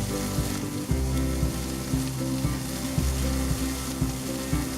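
Asparagus spears coated in oil, salt and pepper pan-frying on a stovetop, a steady close sizzle with faint scraping and shuffling as the pieces are moved around the pan.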